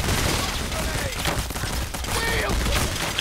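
Dense gunfire from Payday The Heist, with rapid overlapping bursts of shots and mechanical clatter, loud and continuous throughout. Players shout over the shooting.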